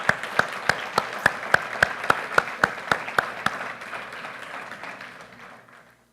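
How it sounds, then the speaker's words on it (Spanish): A church congregation claps in unison, a dozen or so sharp, evenly spaced claps in steady rhythm that fade out, leaving a quiet room tail. "Démosle un aplauso al Señor por esta escritura"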